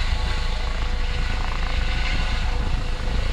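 A helicopter flying overhead outdoors gives off a steady broadband rotor and engine roar with a strong low rumble, constant and moderately loud, with no voices.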